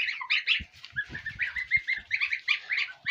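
Geese honk and goslings peep in a busy, overlapping chorus, close by, with soft thuds and shuffling underneath.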